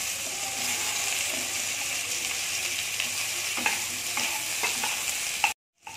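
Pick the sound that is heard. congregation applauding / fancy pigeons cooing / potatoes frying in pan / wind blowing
potatoes frying in pan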